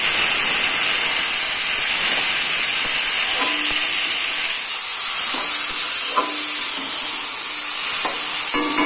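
Vegetable chili chow mein stir-fried in a pan, a steady loud hiss of sizzling with occasional clinks and scrapes of the utensil stirring, no voices.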